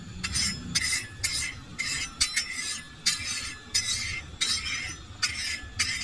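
A dosa ladle scraping and spreading oil across a hot iron griddle while making a masala omelette, giving repeated bright metallic scrapes in short strokes, steady and close with no talking.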